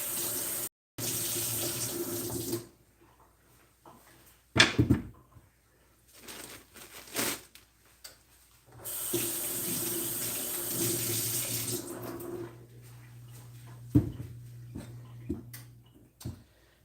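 Tap water runs into a kitchen sink while yellow potatoes are rinsed, a steady rushing stream in bursts with short pauses and brief clatters between them, near and fairly loud, no talking.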